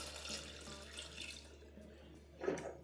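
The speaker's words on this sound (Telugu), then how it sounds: "ఇప్పుడు దీనిలో మనం కొంచెం నీళ్లు పోసుకోవాలి." Water is poured into a pressure cooker holding mutton with salt and turmeric on the stove, a faint splashing trickle that fades, then a short louder gush near the end.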